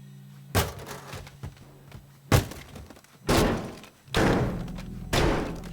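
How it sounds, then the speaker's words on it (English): A nail gun fires inside the video game Teardown, five heavy thunking shots at irregular intervals, loud and close, each with a short crunching impact and decay, with no talking over them. "A nail gun."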